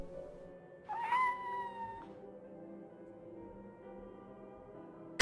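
A single cat meow sound effect rises and falls for about a second, then fades into a quiet, low background hum.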